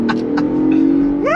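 A 2022 Ford Bronco Raptor engine drones loud and close under throttle, a strong steady tone that climbs sharply in pitch as it revs at the end.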